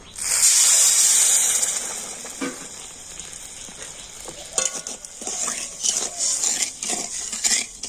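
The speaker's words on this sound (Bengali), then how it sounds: "আর এই চিনিটা এখন কড়াতে আমি দিয়ে দেব আর ওই বাটি মাপ করে দিয়ে দেব এক বাটি জল" Sugar and water heating in a wok with a loud hiss at first, easing into a softer simmer broken by scattered scraping and clinks of a utensil against the pan.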